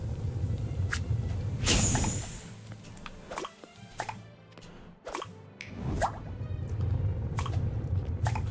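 Water is poured in during the video game Battle Chef Brigade, with liquid drips, plops and squishy splashes over a steady game music bed, several sharp droplet hits spaced through the stretch, no talking.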